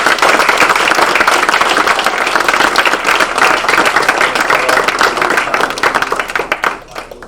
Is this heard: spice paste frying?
no